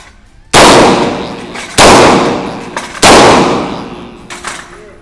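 Three loud, sharp gunshots at shooting practice crack out at roughly even intervals, each with a ringing decay, followed by a fainter fourth report.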